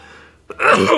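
During a live game stream, a single close sneeze bursts out right after a short sharp intake of breath, loud and brief.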